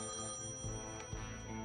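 A telephone rings in the point-and-click adventure game Thimbleweed Park, its bright electronic trill repeating steadily at close range over faint background music, with no voices.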